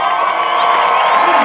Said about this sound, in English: How about a big round of applause, Irwindale, for the 50, Erik Valdez.